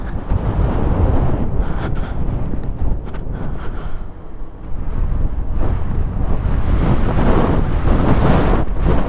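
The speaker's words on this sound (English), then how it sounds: "Oh, it's breezy." Wind blusters across the microphone on a breezy hilltop, loud and gusty with rumbling buffets that ease briefly midway before surging again.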